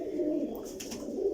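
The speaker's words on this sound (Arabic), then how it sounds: "هذول طيور الزق عنده، طيور الكش" Domestic Kash pigeons cooing up close, a soft low throaty coo that rolls on for about a second and a half, with a brief flutter partway through.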